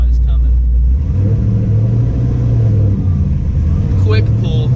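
A supercharged 2010-2015 Camaro SS with a KraftWerks supercharger kit pulls hard in first gear, its loud, close engine rumbling and rising steadily throughout as the revs climb.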